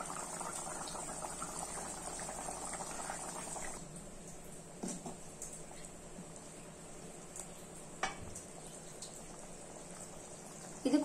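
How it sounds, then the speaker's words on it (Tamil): Salna gravy thickened with gram flour boiling in a pot, a soft continuous bubbling simmer with occasional small pops, fairly quiet and alone. "நல்லா கொதிச்சிடுச்சு"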